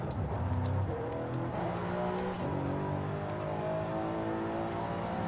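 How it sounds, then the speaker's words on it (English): A Mercedes-Benz E63s engine with stock exhaust in Forza Horizon 5 runs steadily with a deep, throaty exhaust note, rising in a couple of short revs, close and fairly loud throughout. "Now, let's go listen to the stock sound."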